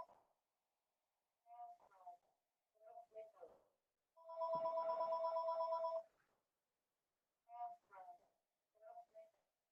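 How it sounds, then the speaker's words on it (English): A home telephone ringing once with a sustained electronic tone of about two seconds, faint and somewhat distant, between stretches of a person speaking. "Excuse the phone ringing."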